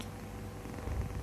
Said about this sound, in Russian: мурчит, спит,